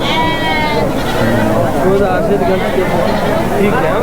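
Sheep and lambs bleat close by and loudly at a livestock market in Mudhol, wavering cries that overlap with a steady crowd murmur and voices talking throughout.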